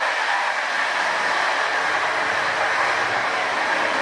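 A passenger train riding the rails between Krakow and Lviv, a steady, even rolling roar with soft clickety-clack from the wheels, heard from inside the carriage with no talk.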